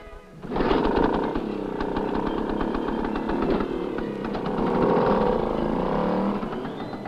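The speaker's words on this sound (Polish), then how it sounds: "A jeszcze bardziej charakterystyczny, jak zresztą niemal wszędzie na polskiej współczesnej wsi, jest motor." A motorcycle engine starts up and runs loudly, a buzzing drone that rises in revs midway and holds steady, close by, in a Polish village around 1961.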